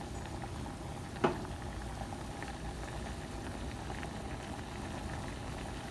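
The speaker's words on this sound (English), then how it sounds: "Now that it's coming to a full boil, don't want it to burn there." A pot of liquid reaching a full rolling boil on a gas stove gives a steady, close bubbling roar throughout, with one sharp click early on.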